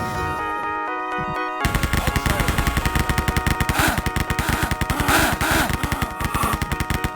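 Rapid automatic gunfire in a first-person shooter video game map, a fast, loud, evenly spaced stream of shots that starts abruptly after a quieter humming lead-in and continues without letup.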